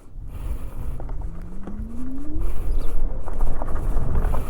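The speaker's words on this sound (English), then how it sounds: "Now let's go for a short ride on this all new TVS Orbiter." A new TVS Orbiter scooter is ridden along a road, its engine humming and rising in pitch as it accelerates, with wind and road rumble building steadily.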